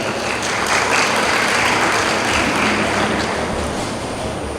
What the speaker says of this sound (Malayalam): എല്ലാവരും അത് അംഗീകരിച്ചുവെങ്കിൽ ഒന്ന് കൈയടിച്ച് പാസ്സാക്കും